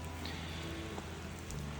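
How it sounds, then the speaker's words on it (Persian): Heavy rain falls steadily on a camp in the Hyrcanian forest, Iran, a constant dense patter on surfaces with a low background hum. "تو ویدیو معلوم نمیشه ولی بارون شدیده"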